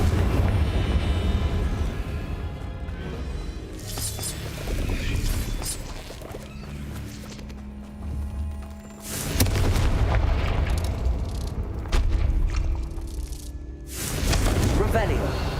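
A Confringo fire spell in Hogwarts Legacy bursts into loud, booming explosions that roll over continuous game ambience, with heavy blasts returning later in the clip.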